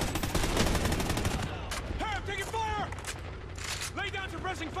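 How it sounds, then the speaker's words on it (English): Gunfire in Call of Duty: Ghosts on Hardened difficulty: a dense, sustained rattle of automatic weapons mixed with distant shots, continuous and loud, with voices talking over it. "Hey, I'm taking fire!"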